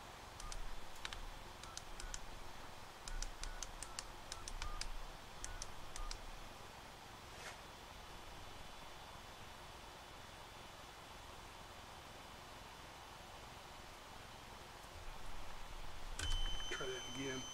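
A short run of faint touch-tone beeps sounds from an SB 22 field phone as it is dialed, then a quieter stretch of hiss, with a brief beep near the end under soft background noise.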